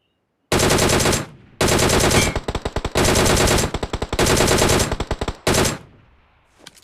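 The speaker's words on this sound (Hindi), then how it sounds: "तभी राइट से कुछ गन साउंड आते हैं।" Loud, close automatic gunfire in a battle royale shooter game, fired in several long sustained bursts separated by short pauses, with a few quick choppy bursts between them and a faint tail at the end; no talking.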